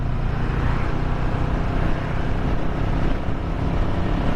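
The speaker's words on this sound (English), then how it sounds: "I'm going to throttle up in 6th gear" A scrambler-style naked motorcycle throttling up in sixth gear near 45 mph, a steady low engine drone blended with wind rush, no talking.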